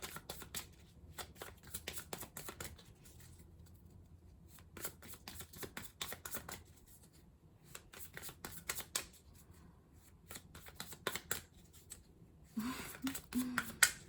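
Tarot cards are shuffled and drawn by hand in a quiet room, with rapid papery riffles and flicks in repeated bursts and brief pauses between them.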